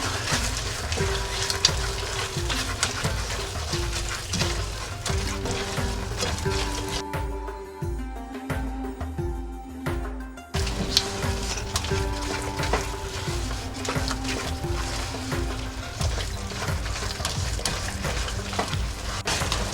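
Halwa mixture with orange coloring stirred and folded in a pan, a steady sizzling, scraping churn that runs nearly throughout, with a short quieter break in the middle.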